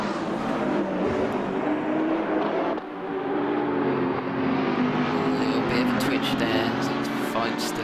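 GT3 race cars in a Silverstone racing game sweep through a left-hand corner, engines droning loudly and continuously with a shift in pitch midway, under a commentator's talk.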